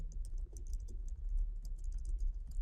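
Rapid, uneven keystrokes on a computer keyboard while HTML form code is entered, a steady run of close, light clicks and taps with no voice over them.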